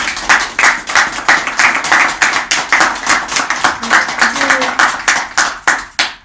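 Audience at a political party founding rally clapping in a fast, even rhythm, loud sharp claps close by repeating steadily for several seconds with no speech over them.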